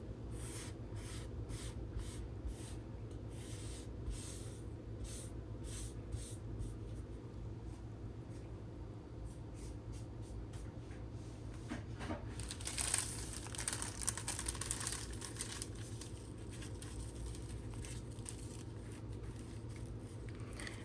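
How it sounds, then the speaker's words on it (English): Phyllo dough sheets are carefully unwrapped, making quiet, close papery rustles and scratchy crinkles that grow slightly louder for a moment partway through. No speech. "Begin to carefully unwrap the other piece of phyllo dough."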